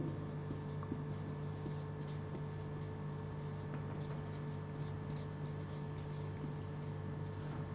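A marker or chalk scratches across a classroom board in faint rapid strokes over a steady background hum, with no clear talking.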